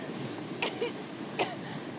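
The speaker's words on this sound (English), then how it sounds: "coughing" Tifa coughing in Final Fantasy VII Rebirth, two short, faint coughs spaced under a second apart over a quiet, steady background hum.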